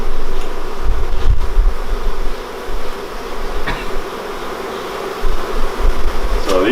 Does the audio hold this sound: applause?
no